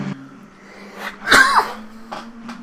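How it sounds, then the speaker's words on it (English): A single sharp cough bursts out over a steady low engine hum, with a couple of faint breathy sounds after it. "Sorry about the coughing."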